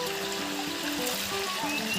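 A stream flows steadily nearby, its water rushing and trickling in a continuous, even wash with no break.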